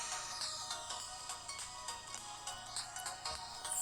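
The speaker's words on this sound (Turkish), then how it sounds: "telefon çalıyor" A phone ringing in an old video game, a repeating electronic ringtone pulsing in steady bursts at moderate level, with no voices over it.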